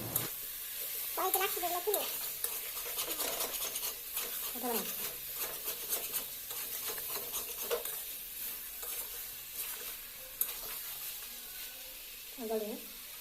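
Chicken curry with potatoes is stir-fried in a kadai: a faint, steady sizzle with repeated scraping stirs and spoon clinks, and a voice briefly heard now and then.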